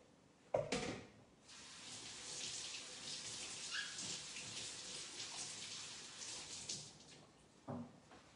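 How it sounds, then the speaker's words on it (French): Leeks are rinsed under a running tap, water splashing steadily into a sink for several seconds, bracketed by a couple of sharp knocks near the start and end, quiet overall. "je les passe à l'eau."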